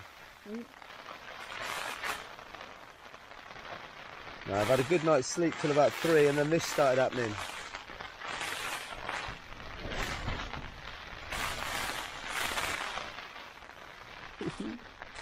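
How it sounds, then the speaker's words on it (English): Steady rain patters throughout at moderate level at a wild campsite on Dartmoor at 4 a.m., while a person talks over it in a low voice. "It's nice being cosy, listening to the rain outside."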